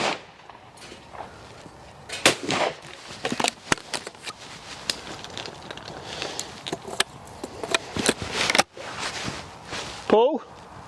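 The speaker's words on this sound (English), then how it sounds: "So I'm just going to shoot 3 pairs with each gun" Blaser F16 over-and-under shotgun firing at clay targets with light 24-gram cartridges, a series of sharp, loud outdoor blasts in spaced pairs, with a brief voice near the end.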